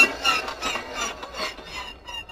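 Hand screwdriver work fastening framework onto a Millennium Falcon model kit: close, repeated scraping and rasping turns with short pauses, fairly quiet and with no talking.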